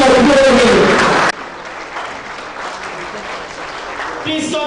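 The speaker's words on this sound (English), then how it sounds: "Please continue to applaud him." A town hall audience at a security meeting applauds Governor Babajide Olusola Sanwo-Olu. A loud burst of clapping drops suddenly to a thinner, sustained applause that swells again near the end.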